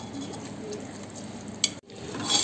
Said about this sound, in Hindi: हमने अपनी सोयाबीन की पड़ियों को और मटर को साथ में 5-6 मिनट के लिए इसे अच्छे से भून लिया है अपने मसालों में